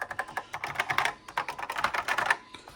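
Fingers type on a NABU computer's keyboard in a quick, uneven run of close, crisp key clacks, with a brief pause midway and no talking.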